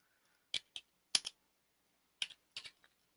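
Several short bursts of keystrokes on a computer keyboard, quick clustered taps in small groups separated by pauses, close and clear in an otherwise quiet room.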